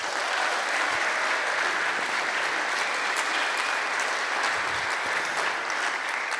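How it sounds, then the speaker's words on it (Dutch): Sustained applause from a large audience at a Dutch talk event on the future of weather forecasting, steady and dense throughout without a break. "Mag een groot applaus voor Peter Kuipers-Munneke."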